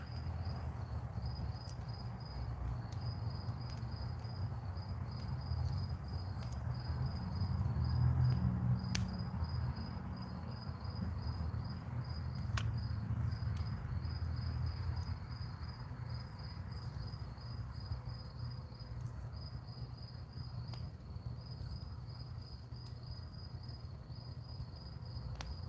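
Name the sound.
crickets chirping with crackling wood fire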